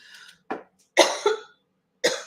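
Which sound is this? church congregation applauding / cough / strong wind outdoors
cough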